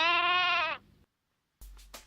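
A goat sound effect: one loud, drawn-out bleat that wavers and fades, followed by silence and then a couple of short rustling bursts.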